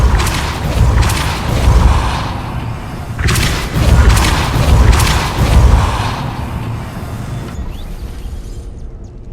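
A Repulsor spell cast in the Hogwarts Legacy video game, heard as a series of deep booming magical bursts, three or four loud thumping blasts rolling one after another before fading out.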